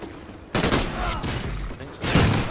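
Rapid gunfire in a Call of Duty gun game match, a loud sustained burst of automatic shots starting abruptly, briefly easing, then surging again near the end.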